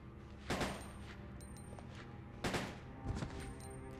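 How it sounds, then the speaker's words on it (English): Gunshots in the survival horror game Resident Evil Code Veronica X, three separate sharp reports spread over a few seconds, the last followed closely by a smaller echo, all quite faint against a low background. "we need to shoot at least one of them"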